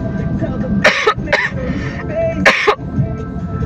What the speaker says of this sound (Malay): Sekejap, aku batuk.